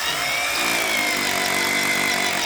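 A drill runs steadily on inverter power on a farm, a continuous loud whine with a high tone that rises slightly and then holds, close by and alone.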